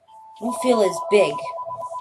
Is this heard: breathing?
no